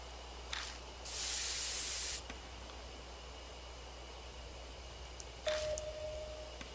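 A sprayer loaded with night-night in the game Death Mark gives a loud, hissing burst lasting about a second, followed by a shorter spray later, separated by faint low ambience with no talking.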